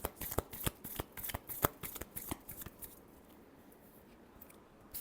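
Tarot cards being shuffled by hand in a quick burst of crisp riffling snaps, about a dozen sharp flicks close up, then fading to quiet room tone.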